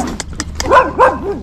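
Dogs bark and yip in a quick series of short, close calls, a few sharp higher yelps followed by longer, rising whining barks over faint background noise.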